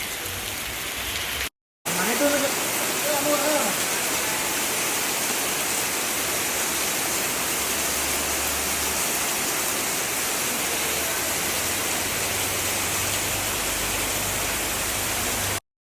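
Heavy rain pours steadily in a dense, constant hiss during a car wash, with a brief gap near the start and no voices.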